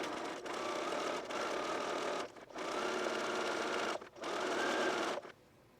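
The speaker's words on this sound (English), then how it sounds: "Stitch it from the right side. The slightly wider zigzag." A sewing machine runs close by, stitching a slightly wider zigzag hem on knit fabric in steady bursts of rapid whirring broken by brief pauses, with no talking.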